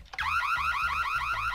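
Alarm in the Minecraft video game, a loud repeating two-tone siren wail that starts abruptly after a short click and cycles rapidly over a pulsing low beat, with no talk.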